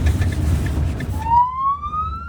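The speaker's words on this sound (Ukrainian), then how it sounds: "Водій включає проблисковий маячок та сирену" An ambulance siren winds up, rising in pitch as it starts, loud and close over a rumbling engine background, in Chernihiv, Ukraine.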